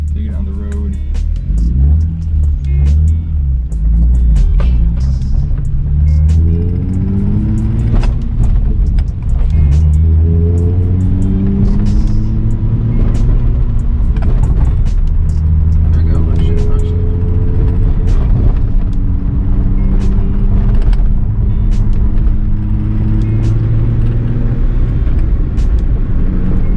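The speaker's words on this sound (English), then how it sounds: "Driving on the public roads now" A Nissan 350Z with a manual gearbox drives on a public road, its engine rising and falling in pitch through several accelerations and shifts, loud and close from inside the cabin, with people talking over it.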